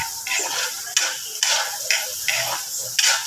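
Menudo stirred in a noisy frying pan: a steady sizzle of frying runs underneath while a spatula scrapes and clatters against the pan in a regular rhythm, about every half second, fairly close and alone.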